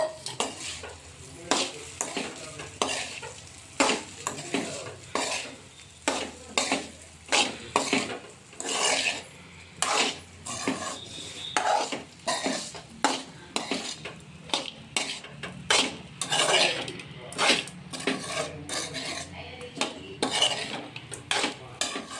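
Leftover idlis smashed into upma are stirred around a pan with a metal spoon, steady scraping clatters and clinks repeating throughout at close range, with a soft sizzle underneath.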